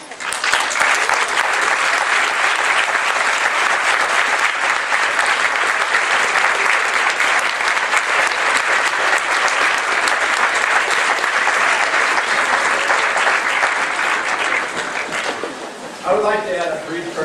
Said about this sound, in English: please stand to receive a round of applause from your graduates